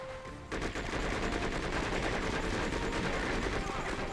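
Sustained automatic gunfire in the Conflict: Desert Storm 2 video game starts abruptly after a short pause and continues as a dense, rapid, loud stream of shots.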